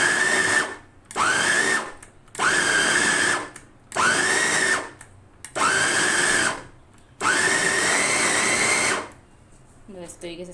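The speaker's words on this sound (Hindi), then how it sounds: "अच्छा जी, एक बार कीमा मैंने इसमें डाल दिया, इसे भी मैं चॉप कर रही हूँ।" Electric chopper whirring through keema with onion in bursts, six loud pulses of motor whine separated by short pauses, followed by faint clattering at the end.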